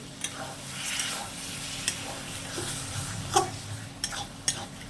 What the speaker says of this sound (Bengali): গরম মশলাটা দিয়ে দিলাম, দিয়ে আর একটু কষে নেব